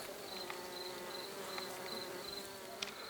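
Honey bees buzzing around a hive, a steady, moderately faint drone with individual bees briefly passing closer throughout.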